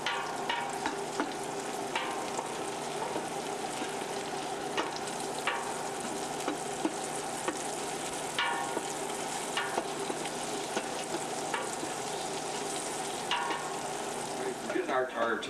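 Onions and celery sautéing in a soup pot, giving a steady sizzle throughout with frequent scraping and clinking strokes of a stirring utensil, close and fairly loud.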